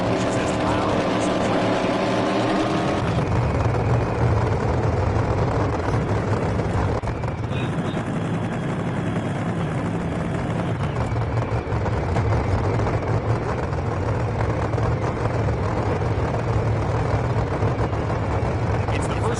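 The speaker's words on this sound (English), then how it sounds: "These engines hit decibel levels of 150 dB" Super modified race cars roar at a racing event, their engines blasting out a dense, continuous wall of noise. The din stays loud and unbroken throughout, with the pitch shifting as the cars pass.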